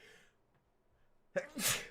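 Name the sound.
sneeze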